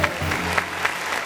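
A short burst of clapping, dense and fairly loud, filling the whole moment with a few sharper claps standing out.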